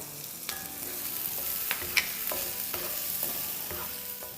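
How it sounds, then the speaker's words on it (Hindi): Ingredients for chicken chilli sautéing in a pan, a continuous sizzle broken by repeated sharp scrapes and clinks of a spoon stirring against the pan. "तो इसे भी 30-40 सेकेंड सौटे करेंगे।"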